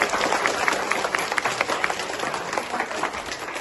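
Applause for a teacher at a Teachers' Day gathering, a crowd clapping steadily and briskly with individual claps standing out, fairly close and continuous throughout.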